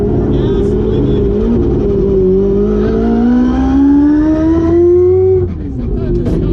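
A four-rotor turbo sequential Mazda RX7 on 12 psi accelerates from inside the car, its engine note climbing steadily in pitch over several seconds and then easing off abruptly, loud and close.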